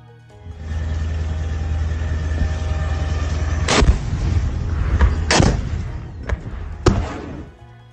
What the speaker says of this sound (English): With 2 explosions heard on the ground